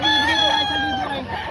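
A rooster crows loudly and close at a fowl market in Padre Garcia, Batangas, one long drawn-out call with faint background voices beneath it.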